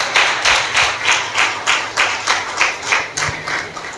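A church congregation at a Sunday service claps in unison, about ten strong, evenly spaced claps in a steady rhythm, loud and close with no talk over it.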